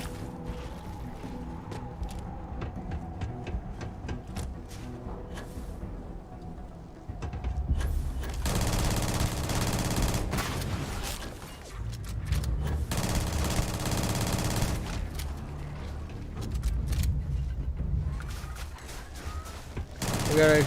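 Automatic gunfire from a heavy weapon in the Bethesda space game Starfield, long sustained bursts of rapid loud shots broken by short pauses and clicking mechanisms, with someone talking over parts of it.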